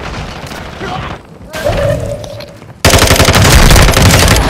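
Gunfire in the Call of Duty: Warzone video game: loud, rapid automatic bursts and sharp shots, ending in a dense, sustained volley of close fire with in-game voices calling out underneath.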